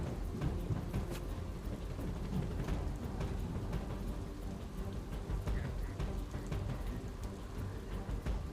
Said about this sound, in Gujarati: અમદાવાદના મોટાભાગના વિસ્તારોમાં વરસાદી માહોલ છવાયો છે